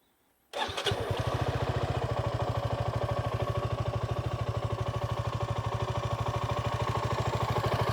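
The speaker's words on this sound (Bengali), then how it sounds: "নিশ্চয়ই ইঞ্জিনের সাউন্ড শুনতে পাচ্ছেন" A Suzuki Gixxer SF 250 motorcycle engine starts after a brief silence, then idles steadily with a fast, even low thumping pulse, loud and close, continuing to the end.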